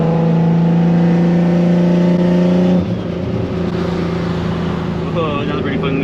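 Engine of a Nissan 350Z with a built, turbocharged motor, heard while driving as a loud, steady droning hum that shifts pitch partway through, with voices talking over it.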